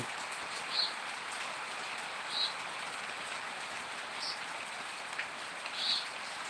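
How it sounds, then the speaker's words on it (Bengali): Steady rain falls in a continuous even hiss, with a few brief brighter drip or splash accents standing out over the wash. "প্রচুর বৃষ্টি হচ্ছে"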